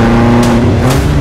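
A BMW M5 Competition idling loudly in M1 mode, its deep, steady exhaust rumble broken by two brief, sharp pops about half a second apart.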